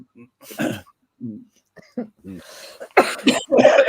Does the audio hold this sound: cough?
yes